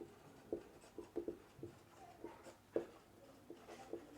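Chalk or marker writing on a board in a classroom, with soft tapping strokes and scratchy scrapes in an irregular rhythm, faint and close.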